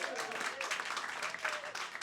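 Brief, faint applause from a small live concert audience, scattered clapping at a distance with a light, uneven texture.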